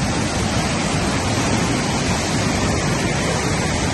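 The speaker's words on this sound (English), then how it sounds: "A lot of water." Floodwater rushing through Kernville, California during a storm, a dense, continuous roar of torrential flow that stays loud and unbroken, with no voices.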